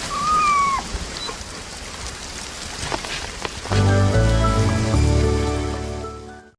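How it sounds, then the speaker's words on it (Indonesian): Heavy rain pours steadily onto a surface in a story scene, a dense hiss running throughout, with a brief whistle-like tone early on and a deep swell of low music entering about halfway and carrying to the end. "menahan dinginnya air hujan yang terus mengguyur tubuhnya"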